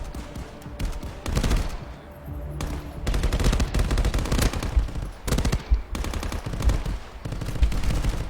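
Gunfire in the VR shooter Contractors, played on a Pico 4 headset: loud bursts of automatic fire and single shots repeat in clusters throughout, close and dominant, with no talking.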